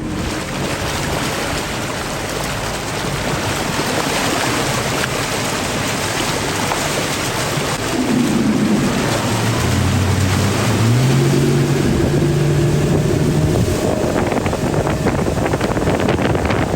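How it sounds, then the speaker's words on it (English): Flux Marine 100hp electric outboard motor pushing a Scout 215 Dorado boat up onto plane, recorded close to the motor: a steady whine that rises in pitch, heard over continuous wind buffeting and rushing water, with no talking. "we're going to get the camera close to the motor, get back up on the plane, and we'll see if you can hear what it's like"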